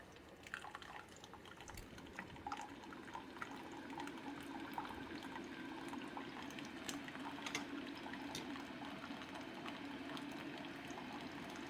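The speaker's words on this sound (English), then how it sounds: "You'll notice that the stream comes out just a little bit slower." Keurig K-Select K-Cup coffee maker brewing coffee into a cup, a steady trickling stream with dripping and faint pump hum running continuously, close and moderately quiet, with no talking.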